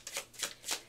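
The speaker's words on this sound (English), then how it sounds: "Let me shuffle some more." Tarot cards riffled and shuffled by hand in three quick bursts, each a crisp papery flutter, close and fairly quiet with no voices.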